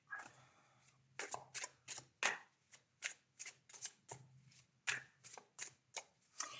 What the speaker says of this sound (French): Je vais remettre une carte là.